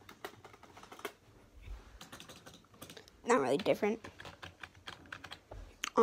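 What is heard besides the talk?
typing on a new gaming keyboard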